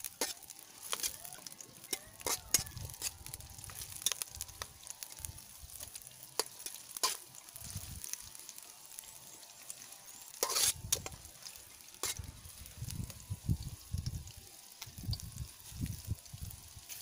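Ginger and salt being stirred into a frying egg curry masala in a pan: a soft sizzle under repeated scraping strokes and low knocks of the spoon, coming in irregular bursts, close by, with no talking.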